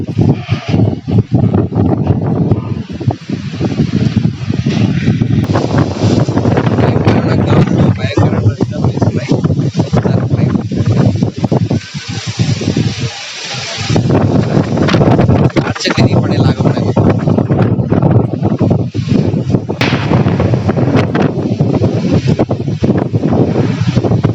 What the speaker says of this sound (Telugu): భయంకరమైన గాలులు వీస్తున్నాయి. మొత్తం రేకులు బలబల శబ్దాలు చేస్తున్నాయి.